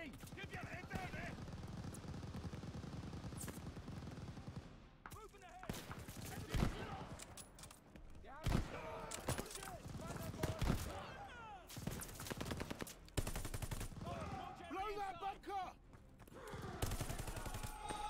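Call of Duty Vanguard battle in a bunker assault with machine gun fire: bursts of gunfire, thuds and explosions crowding the mix, loud and close, with brief quiet gaps and a busy, chaotic texture.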